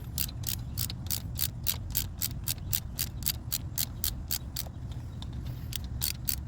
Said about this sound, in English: Now we'll finish them up with the ratchet here.